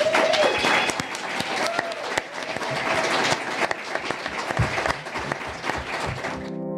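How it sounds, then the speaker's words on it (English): Audience applause for doctors at a talk event, loud, dense clapping that continues steadily for several seconds before cutting off abruptly. "Let's give these doctors a big round of applause."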